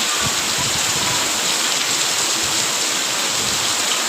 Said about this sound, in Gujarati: જો હજી કેવો વરસાદ ચાલુ છે, બંધ થવાનું નામ જ નથી લેતો.